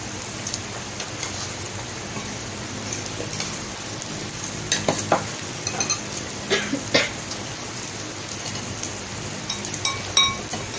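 Steady crackling sizzle of food cooking on a 2-in-1 electric grill with hot pot, with occasional utensil clinks and taps over the constant frying hiss.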